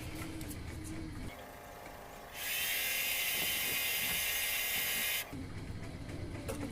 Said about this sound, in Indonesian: kita amplas sekali lagi dengan amplas 1000 biar supaya agak lebih halus